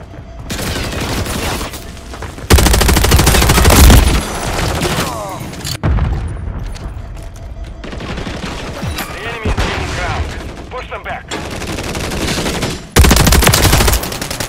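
Heavy automatic gunfire in Call of Duty Modern Warfare 3, with sustained loud bursts, a few booming blasts and brief pauses between volleys, plus game voice callouts mixed in.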